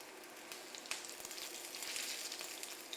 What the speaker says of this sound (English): I think I need a new frying pan and all.